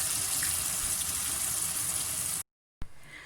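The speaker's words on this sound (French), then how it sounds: "De retour à mes pommes de terre, donc je les ai égouttées." Boiled potatoes being drained, with hot water gushing steadily into a sink in a loud, even rush that cuts out briefly and then resumes.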